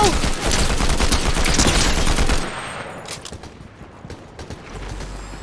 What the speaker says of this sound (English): I'm getting shot at from behind